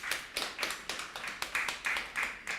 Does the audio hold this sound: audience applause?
yes